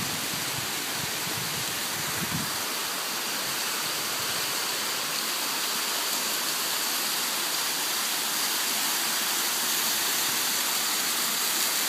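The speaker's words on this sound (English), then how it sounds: "There's our waterfall." Unnamed waterfall on a trail in Utah County, a steady, loud broadband roar of falling water that fills the whole clip without a break, close by and with no voices over it.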